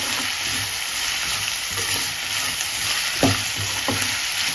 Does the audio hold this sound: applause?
no